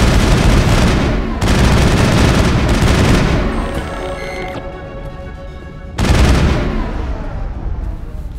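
Sustained gunfire in the video game Mass Effect, loud rapid automatic bursts with booming impacts, pausing briefly before another heavy volley.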